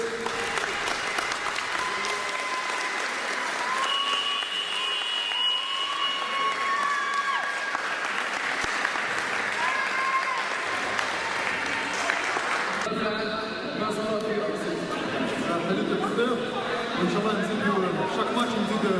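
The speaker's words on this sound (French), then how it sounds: "Je vous demande de les applaudir" At a youth charity fundraising event, an audience applauds visiting guests with sustained clapping mixed with crowd chatter and some cheering. Tonal sounds run beneath it, and the texture shifts partway through.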